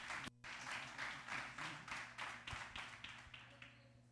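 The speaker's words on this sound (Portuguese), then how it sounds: "Vamos aplaudir o Senhor?" A church congregation applauds during an evening Sunday service, a steady run of rhythmic group clapping in regular pulses that gradually softens toward the end, heard alone without talk.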